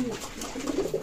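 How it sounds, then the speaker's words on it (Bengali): Teddy running pigeons coo softly and continuously at a pigeon loft in Daulatpur, Khulna, a low murmuring call close by with no talk over it. "এক জোড়া মাশাআল্লাহ রানিং পেয়ার কবুতর আছে"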